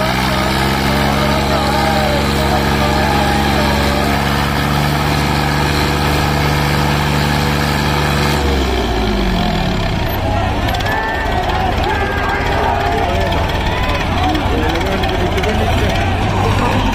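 Swaraj 885 and Sonalika 750 tractors strain against each other in a tochan tug-of-war contest between UP and Haryana teams, their engines droning loudly and steadily before shifting into a rougher, harder roar, with crowd noise around them.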